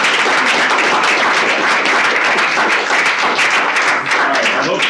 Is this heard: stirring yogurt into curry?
no